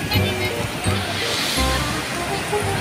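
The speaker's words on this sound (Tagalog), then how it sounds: "Nalakas ng alon dito guys" Strong ocean surf at a beach in Real, Quezon, where a continuous wash of breaking waves roars and hisses, with people talking over it.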